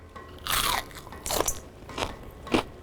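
Four loud, crisp crunches of biting into crispy Korean fried chicken, evenly spaced and close up, with no talking.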